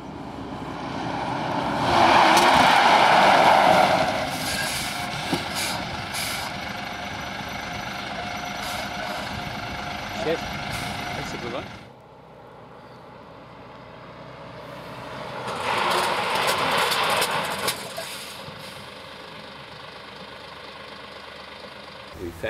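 A truck carrying a baffled water tank drives through brake tests, its engine droning loudly with rising and falling surges, a sharp drop near the middle, then building again, close and steady with no talk.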